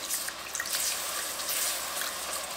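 Almond milk pours steadily into a pot over a cooked flour roux for creamed spinach, a continuous close splashing trickle with no talking.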